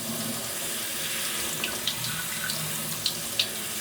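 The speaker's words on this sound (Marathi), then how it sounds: "असा चाळणीमध्ये घ्या आणि फक्त धुवून घ्या" Tap water runs steadily over one kilogram of rice being rinsed in a sieve, a continuous close splashing wash with a few brighter spatters of water against the grains and sieve.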